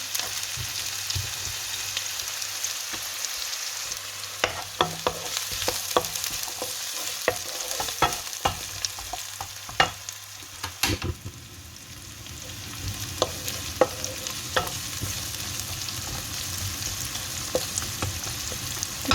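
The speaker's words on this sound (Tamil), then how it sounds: "வெங்காயம் கொஞ்சம் பொங்கலற அளவுக்கு வதங்கி வரட்டும்" Onions sauté in hot oil with mustard seeds and fennel for tomato rice, giving a steady close sizzle broken by repeated sharp clicks and scrapes of a spoon stirring the pan throughout, with no voices.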